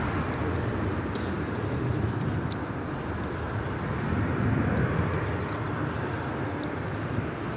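An EVA Air airliner, flight 12, taxis at LAX, a steady broadband jet engine roar holding at constant loudness throughout with no voices.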